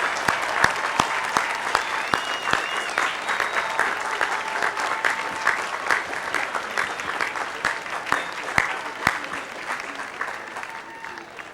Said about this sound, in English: express your pride once again in Bowdoin's newest graduates with a great round of applause